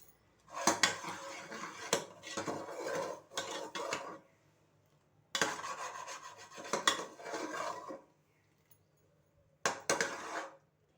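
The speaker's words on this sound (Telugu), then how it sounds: "ఇలా కదుపుతూ ఉండాలండి ఉండపాకం వచ్చే వరకు" Jaggery syrup with sesame seeds stirred in a metal pot, a spoon scraping and clattering against the sides in several bursts separated by brief quiet pauses.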